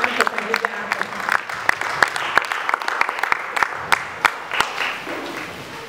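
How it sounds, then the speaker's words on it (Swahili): A church congregation applauds to welcome Pastor Willy Wanjie to the pulpit, scattered sharp claps spread through a moderate room with voices murmuring underneath. "Pigieni makofi."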